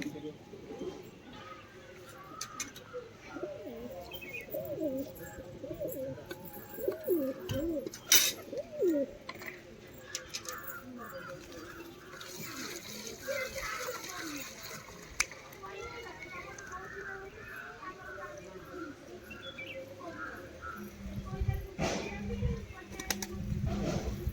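White pigeons kept at home cooing in low, repeated throaty calls, close by and continuing through the stretch, with some water sloshing and a person talking at times.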